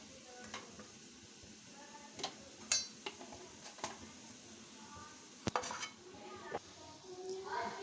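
A spoon scrapes and clinks against a pan while vegetable sabji with salt and black pepper is stirred, giving soft irregular strokes and knocks over a faint sizzle, fairly quiet and close.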